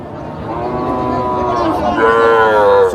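A cow lows loudly with long, harmonic moos at a busy rural cattle market in Bangladesh, close by, with crowd chatter and voices running underneath throughout.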